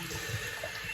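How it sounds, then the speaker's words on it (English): Cold water trickling slowly from a tap over a straight razor blade, a soft steady running-water hiss close by, with no talk. "I'm just running very slowly some cold water over the blade"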